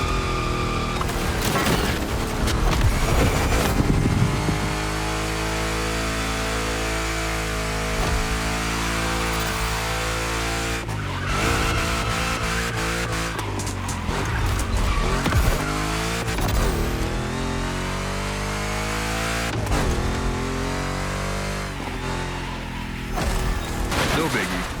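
Engine roar and tire squeal from a 1,000-horsepower big-block Chevrolet Camaro doing gymkhana in The Crew Motorfest, loud and continuous with sharp bursts, under a speaking voice.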